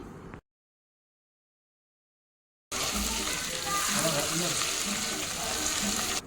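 Curry leaves and ginger garlic paste fry in hot oil for a fish pulusu, a dense steady sizzle bursting in after a short silence, close and loud with no talking.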